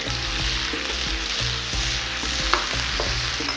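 Onion paste sizzles and fries in a handi, a dense, steady crackle with a low bubbling rumble underneath and small pops, close and continuous with no voices.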